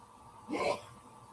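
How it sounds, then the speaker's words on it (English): A man's single sneeze comes from somewhere off in the room, a short, breathy, moderately faint burst lasting under half a second amid quiet background hiss. "Did you hear that? My husband just sneezed."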